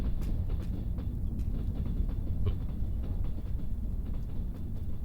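A train arrives in the Trans-Siberian Railway Simulator game, a continuous low rolling rumble with faint clicking from the rails, steady and fairly close, with no talking.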